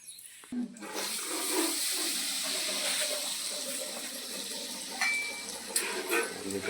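Water splashes and pours continuously into a container while crab paste is prepared outdoors, fairly close and steady, with a few sharper splashes later and faint voices in the background.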